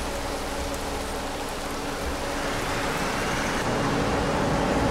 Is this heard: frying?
no